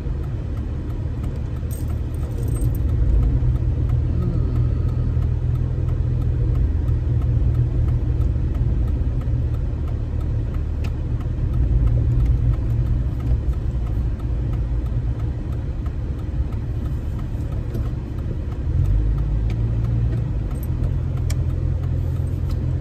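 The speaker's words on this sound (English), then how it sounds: "I'm just dealing with traffic right now" A car drives through traffic with a steady low engine rumble and road noise from inside the cabin, the drone swelling slightly at moments as it moves off and slows.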